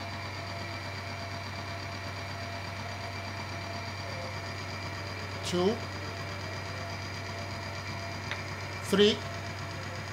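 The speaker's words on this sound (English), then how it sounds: "Now let us see what happens when we put pressure on the engine now." A car engine treated with Polytron metal treatment concentrate runs steadily under load with a constant droning hum, while a voice briefly counts aloud.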